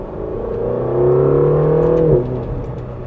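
A Ferrari California T engine revs up, holds a rising snarl for about a second, then drops back to a smooth idle.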